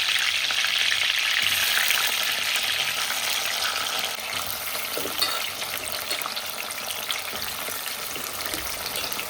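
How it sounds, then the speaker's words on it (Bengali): Washed mushrooms fry in hot oil with a loud, dense crackling sizzle that eases slightly partway through, punctuated by a light stir or two. "মাশরুমগুলোকে প্রথমে গরম জল দিয়ে ধুয়ে চুলে নিয়ে তারপর এগুলোকে তেলের মধ্যে ভেজে নিচ্ছি"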